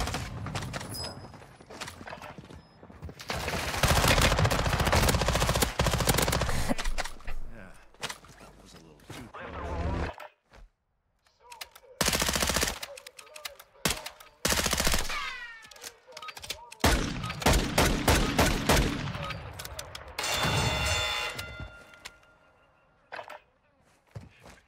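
Gunfire in the Warzone 2.0 battle royale game comes in loud bursts of rapid automatic shots and fusillades, with short pauses between exchanges, while players talk over the shooting.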